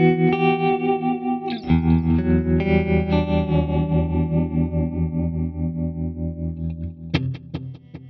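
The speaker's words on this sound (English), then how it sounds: "what I'm going to do with this delay is to make it a pan delay" Electric guitar chords played through a Boss Katana amp with a stereo pan delay ring out and repeat, the sustained notes bouncing and decaying with warbling echo, then a few short plucked notes trail off with repeats.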